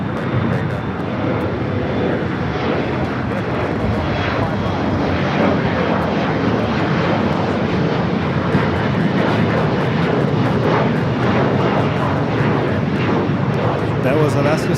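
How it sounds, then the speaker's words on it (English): Alaska SkyWest jet airliner departing Los Angeles LAX for Las Vegas, a loud continuous engine rumble and roar holding steady throughout, with people talking over it. "That was Alaska SkyWest 3389 going to Las Vegas on a very long 1-hour flight"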